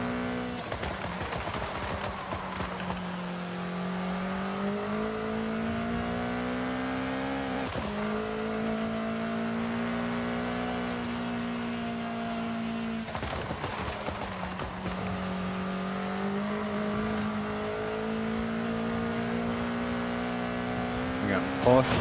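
A Porsche race car engine in Forza Horizon 5 climbs through rising revs in long pulls, with sharp gear changes at regular intervals, steady and fairly clear, with talking over it at times.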